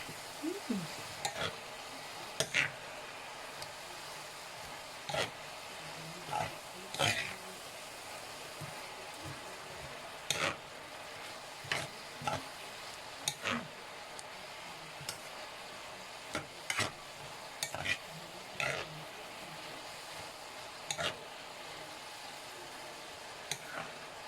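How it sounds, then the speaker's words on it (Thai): Bean sprouts tossed in a pan give a soft, steady sizzle punctuated by regular clinks and scrapes of the spatula every second or two, quiet and close, with no voices. "ทีนี้ก็ผัดทั้งหมด ที่ได้ไม่ต้องผัดนานนะคะจะได้กรอบ"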